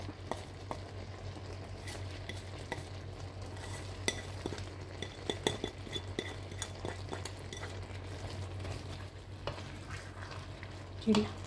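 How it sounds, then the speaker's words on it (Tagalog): A spoon stirs vegetables and shrimp simmering in coconut milk, seasoned with pepper and salt, in a pan: a continuous soft bubbling sizzle with scraping strokes and occasional light clinks against the pan. "Haluin ko lang pong mabuti"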